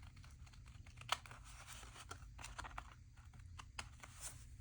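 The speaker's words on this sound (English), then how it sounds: "Just going to trim the edges here a little bit" Paper being trimmed along the edges of a collage page, heard as a close run of soft, quiet snips and crisp clicks in an irregular rhythm, with one sharper snap near the start.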